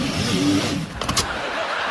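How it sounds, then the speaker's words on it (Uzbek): A car engine turns over and catches in a brief burst of rumbling noise, heard close and fairly loud. "Mashinani haydang."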